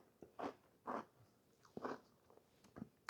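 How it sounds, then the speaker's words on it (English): Crunchy cookie with strawberries and whipped cream bitten and chewed close up, several distinct crisp crunches spaced across a few seconds, fairly quiet with no talking. "Can y'all hear the crunch from the cookie?"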